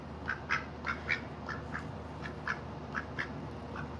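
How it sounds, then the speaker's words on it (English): A duck quacks repeatedly, about a dozen short nasal calls in an uneven rhythm, close by and clear over a low steady background hum, with no talking. "The duck's name is Olivia Gray."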